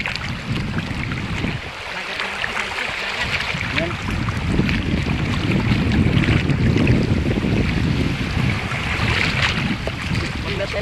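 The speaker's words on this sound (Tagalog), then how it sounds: "malakas talaga ang dagat pa mga kasadkik oh" Rough sea with strong waves surges and crashes continuously around a small fishing boat, mixed with heavy wind buffeting the microphone.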